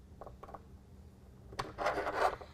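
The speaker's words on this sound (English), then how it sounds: "Those carriage bolts are going to slide into that track." Carriage bolts slide along the rail track of an UnderCover Ultra Flex tonneau cover on a 2017 Dodge Ram, giving a few faint scrapes and then a louder, steady metallic rubbing that lasts about a second near the end.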